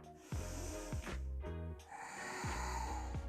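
Deep, slow breaths are drawn in a yoga session of pelvic floor exercises, with several long inhales and exhales repeating close to the microphone over soft background music.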